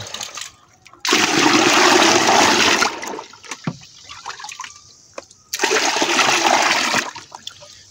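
Water is poured into a batch of POC multi-energy liquid fertilizer in two loud, sustained bursts of splashing flow separated by a short pause, with no talk.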